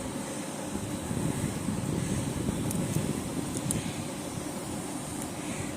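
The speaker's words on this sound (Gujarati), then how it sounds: "આ બાજુ પવન બી બહુ સરસ છે." Wind blows steadily outdoors under a cloudy sky, close enough to rumble against the microphone. The rushing noise is continuous and fairly soft, and nobody speaks.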